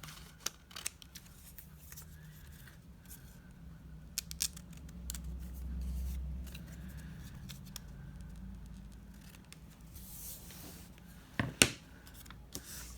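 Scissors snip through craft card or tracing paper in short, quiet cuts spread across a calm stretch, with a faint low hum beneath and a louder rustle near the end.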